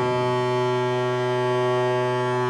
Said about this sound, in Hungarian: Szól a duda.